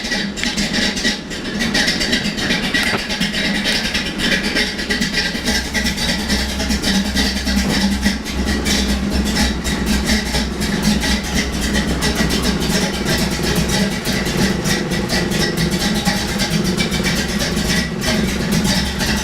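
A 1975 Pontiac Firebird Trans Am with a Pontiac 400 V8 idles after a cold start, a steady low rumble with a mid-range drone that holds evenly throughout, close and alone with no voices.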